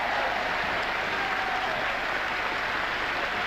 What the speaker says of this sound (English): And there's applause in here from supporters of both candidates.